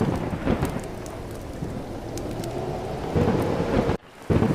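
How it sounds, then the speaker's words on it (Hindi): Heavy rain pours steadily while deep thunder rumbles through it, the storm loud and close with no voices. "आज तो बारिश हो रही है।"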